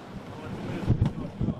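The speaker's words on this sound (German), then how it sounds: "Marinehafen Eckernförde." Waves, boats and wind at the Eckernförde naval harbor, a short burst of rumbling wind buffeting and low water noise with a few thumps, fairly close and loud.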